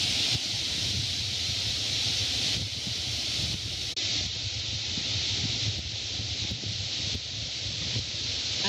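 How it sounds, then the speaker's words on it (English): Wind blows across a beach in Exuma, Bahamas: a continuous, loud, hissing rush buffets the microphone, steady with slight swells and no voices. "The wind is a little loud."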